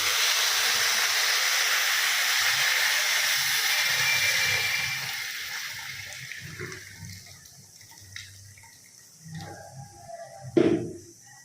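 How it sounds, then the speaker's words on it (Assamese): Water poured onto rice in a hot pot for plain pulao sets off a loud rushing hiss that fades after about five seconds into soft bubbling, a few utensil knocks and a final clatter. "এতিয়া মই পানী দিলোঁ পানী দি দিব এনেকৈ"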